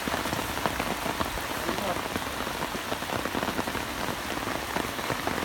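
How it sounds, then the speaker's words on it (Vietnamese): A steady downpour of heavy rain falls on an old, abandoned fishing pond, making a thick, unbroken roar of drops pattering close by throughout. "Ôi, mưa to, mưa to, mưa to."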